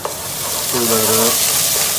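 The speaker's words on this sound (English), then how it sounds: "Stir that up." Minced garlic and chopped onion sizzling in a pot for chili-cilantro-lime chicken soup, a loud close hiss with a brief stirring scrape midway, no voices.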